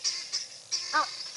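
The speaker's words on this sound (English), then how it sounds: "You can also hear the helmeted guinea fowl in the background complaining about the presence of this bird." Helmeted guinea fowl give harsh, scratchy calls from the background, several short bursts repeating across a second or so, with one louder nasal note near the end.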